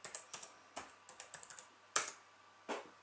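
Fingers type a password on a computer keyboard in a run of quick, uneven clicks and key taps, close and clear, with no talking.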